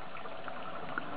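A small hydroponics water pump rated around 175 gallons per hour runs beside a water storage container, giving a quiet steady watery gurgle and hum with faint bubbling, continuous and low in level.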